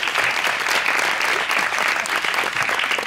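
Steady, dense applause from a studio audience on a talk show, loud and continuous throughout with no voices over it.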